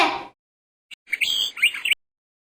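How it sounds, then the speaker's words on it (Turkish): Short bursts of high bird chirps and tweets, a quick flurry of calls after a brief noisy onset. "Bu bir kuş."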